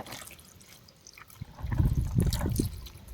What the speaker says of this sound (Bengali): প্রথমে আমরা সয়াবিনগুলোকে জলে ভিজিয়ে রেখে দেবো।